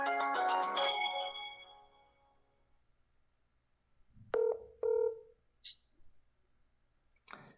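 A phone call being placed: a loud burst of electronic ringtone-like tones, then after a quiet pause two short, clear ringback beeps and a faint chirp, heard alone without talk.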